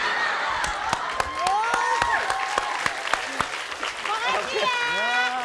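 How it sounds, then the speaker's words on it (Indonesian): Audience clapping and cheering at a comedy variety show, steady applause mixed with crowd shouts and bursts of laughter, with voices heard over it throughout. "Tepuk tangan untuk Mas Makasih. Desi, Mas Topan, dan Pak Eko."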